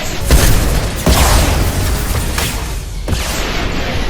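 Several rocket launcher explosions in the Mass Effect 2 video game boom in quick succession, loud heavy blasts about a second apart with rumbling tails between them, and nobody speaking.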